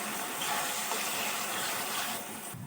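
Boiled split black gram dal poured from a pot into a pan makes a continuous rushing, gushing pour that runs steadily and tails off at the end.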